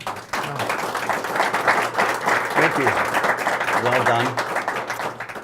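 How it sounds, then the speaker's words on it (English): Audience applause at a brewing executive summit, a steady wash of clapping lasting the whole stretch, with a couple of voices speaking briefly over it. "So if we give them a round of applause."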